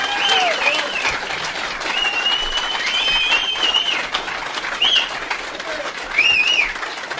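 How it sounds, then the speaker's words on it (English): An audience claps through the whole stretch at an Alano Club AA meeting, steady dense applause with some chatter and whistle-like calls mixed in. "let's give him another round of applause"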